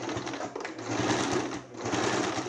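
A sewing machine stitches a straight seam along a marked line on fabric for a zippered cushion cover, running at a steady close whir with a brief easing of speed partway through.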